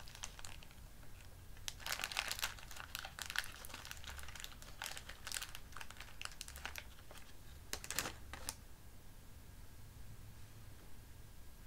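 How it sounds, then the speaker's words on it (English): Paper or leaves with berries torn up by hand at a stitching table, giving bursts of crinkly ripping and rustling, close and fairly quiet, in short clusters separated by pauses. "Tearing these up."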